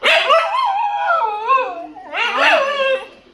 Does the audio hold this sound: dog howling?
yes